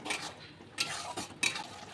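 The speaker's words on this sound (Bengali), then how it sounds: "এবার ভালো করে কষাবো।" Ground spices for mutton kosha frying in oil in a pan, stirred with a spoon: a hissing sizzle broken by three sharp scrapes against the metal.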